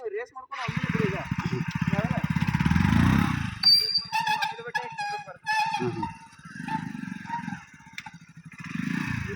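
A motorcycle engine revs in short bursts on a first ride lesson, its throttle rising and dropping close by, while someone speaks throughout over the engine.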